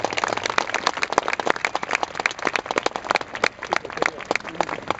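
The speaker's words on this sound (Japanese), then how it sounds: "今一度、拍手、ジョン・マロニさんに拍手をお願いいたします。" Crowd applause at an outdoor air show after a pilot climbs down from a Type Zero Model 52 fighter, steady dense clapping with sharp individual claps standing out, fairly close and sustained throughout.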